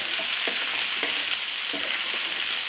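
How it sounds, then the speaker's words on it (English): Peppers frying with garlic and ginger in a hot pan for a beef and noodle stir fry, a bright continuous sizzle up close, punctuated by a few soft scrapes and stirs. "we're going to want to fry these peppers for a few minutes and get them to cook up a bit"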